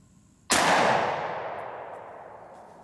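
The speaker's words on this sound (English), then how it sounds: "I'm gonna shoot the top target." A single loud gunshot from a 10mm Auto pistol fired at a target about 7 yards away on a range, a sharp close blast with a long fading ring-out and no talk.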